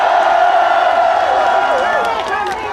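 A large crowd at an outdoor anti-impeachment rally applauds and cheers in a dense, steady wash of clapping and voices, loud and sustained throughout.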